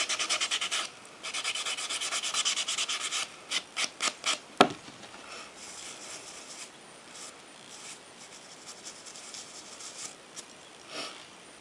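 A white buffer block rubbed over a fingernail makes dry, scratchy rasping strokes, close and soft, with steady scrubbing bursts broken by a run of short separate strokes and one sharp tap midway.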